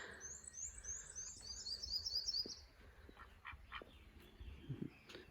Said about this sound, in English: Listening to all the songbirds.